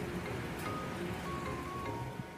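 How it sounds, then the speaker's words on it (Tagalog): Rain falls steadily in Hong Kong during a typhoon, a soft continuous hiss of drops on surfaces, fairly faint and even throughout, with no voices. "Ayan, umuulan na siya."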